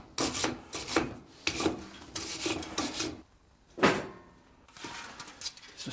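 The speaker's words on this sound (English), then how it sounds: "After 10 minutes I'll use a wire brush," A wire brush scrubs residue off a metal lamp part in a workshop, giving repeated harsh raspy strokes in bursts with short pauses, close and fairly loud, no talking.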